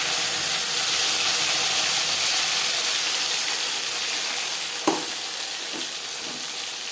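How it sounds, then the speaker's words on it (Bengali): Panch phoron, ginger paste and green chili paste frying in hot oil for a shol fish curry, a dense steady sizzle up close, broken once by a single sharp clack of a utensil. "15-20 সেকেন্ড 5 ফোড়ন ভেজে নেওয়ার পর দিয়ে দেবো 1 চামচ আদা বাটা, কাঁচা লঙ্কা বাটা"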